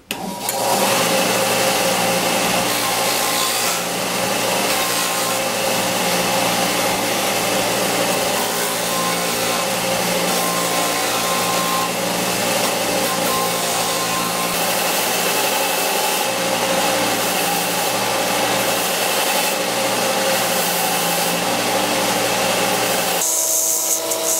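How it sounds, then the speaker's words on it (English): A belt sander grinds loudly and continuously against wood, freehand shaping a woodpecker carving, a steady abrasive whine with no pauses throughout. "So to carve out the woodpecker, I'll just be using my belt sander"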